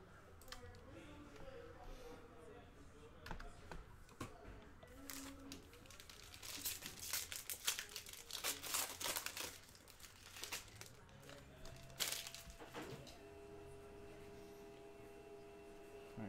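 A foil pack of 2019-20 NBA Chronicles trading cards is torn open, with crinkling and ripping that comes in bursts of rustle and sharp tearing at close range, then settles into softer handling.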